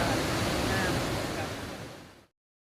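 Waterfall at Wat Suan Pa Rim Than temple forest in Dong Luang, Mukdahan, Thailand: a dense, steady rushing roar of falling water, loud and continuous, cutting off abruptly.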